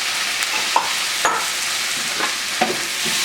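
Tomatoes with their juice being stirred into softened peppers and onions in a pan for menemen, a broad steady sizzle with a few light scrapes and clicks, close and even.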